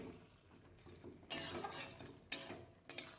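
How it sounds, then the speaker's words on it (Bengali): Crushed lentil dumplings and vegetables stirred in a pot, with metallic scraping and clinking of a spoon against the pot in three bursts, separated by quiet pauses, close and moderately loud. "সবগুলো আমি ভালো করে মিশিয়ে নিচ্ছি।"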